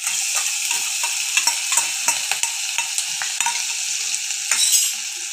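Ginger-chilli paste with a pinch of asafoetida sizzles steadily in a pan over medium heat for a samosa filling, with a spoon repeatedly stirring and scraping through the frying mixture. No voices are heard.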